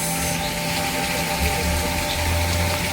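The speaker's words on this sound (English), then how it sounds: "See, there's one more waterfall." A garden waterfall pours in a steady, close, continuous splashing rush with a faint mechanical hum beneath it and no talking.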